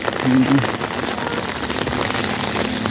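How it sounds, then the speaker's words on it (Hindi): Steady rain patters on a surface nearby during a Holi celebration, constant and hissing, with a brief voice murmuring at the start. "बारिश हो रही है"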